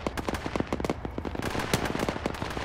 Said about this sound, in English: Bravo 1, open fire.